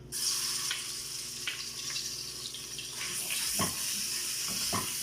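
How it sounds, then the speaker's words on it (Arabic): Garlic and chopped green coriander sizzle in preheated oil, a steady bright frying hiss with a few sharper crackles and spits near the end, close and without voices. "هلا بدي اقلي الثوم والكزبره"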